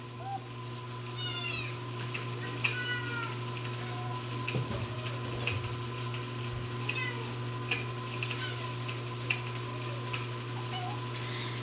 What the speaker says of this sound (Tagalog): Ang bahay ko'y puro pusa.